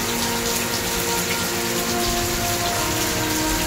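Heavy rain falls in Malaysia as a dense, constant roar of drops on surfaces, loud and unbroken throughout with no voices.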